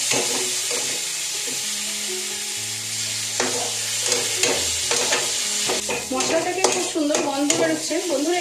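Bengali masala spice paste for chicken dopiaza fries with a splash of water in a pan, a steady close sizzle with scraping stirs throughout and soft background music.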